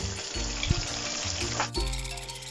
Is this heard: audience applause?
no